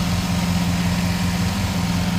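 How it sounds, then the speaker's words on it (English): A 2010 Chevy Silverado 1500 Z71 4x4 idles with its Vortex V8 and aftermarket K&N performance intake, giving a loud, close, steady low rumble with an even, smooth throb throughout. "And underneath the hood is a Vortex V8 with an aftermarket K&N performance intake."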